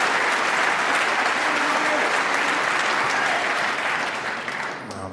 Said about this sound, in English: a terrific round of applause